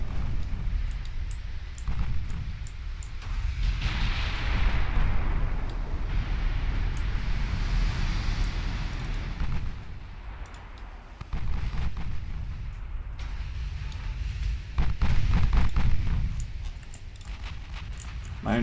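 Naval guns boom in the video game Ultimate Admiral Dreadnoughts as heavy cruisers with 6-inch guns exchange fire. Deep rumbling salvos and sharp reports overlap in uneven bursts, loud and sustained, with no speech.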